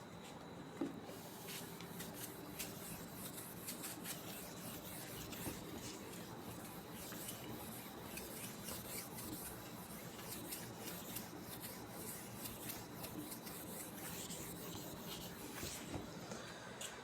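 Chalk or an eraser scrapes and rubs across a classroom board in a continuous close, scratchy patter of short strokes, with no talking.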